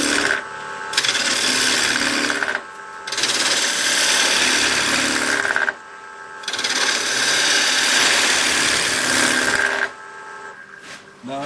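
A wood lathe rough turns the corners off a natural edge bowl blank, loud harsh scraping and rasping in three long cutting passes separated by brief quieter gaps where the motor hums on alone.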